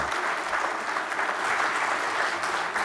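Steady applause from a seminar audience greets the opening panel at a Brazilian logistics event, a dense, even wash of clapping throughout.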